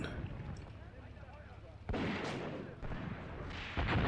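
Tank shells strike an armored target in the Graviteam Tactics war game as three sharp, booming impacts, spaced about a second apart, after a quieter rumbling stretch.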